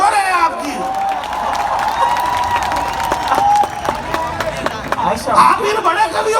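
An audience at a kavi sammelan poetry recital in Jaipur's Albert Hall claps and cheers, a dense, sustained burst of applause with crowd noise over a lingering tonal sound.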